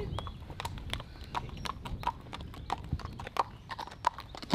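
Horse hooves clip-clopping steadily on a road during a spring walk; a regular, crisp rhythm of many distinct hoof strikes, fairly close, with no talk.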